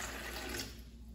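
Cold water, about 200 ml, poured into a blender jar with ginger and pineapple slices for a detox pineapple juice; a steady, close splashing pour fills the short moment alone.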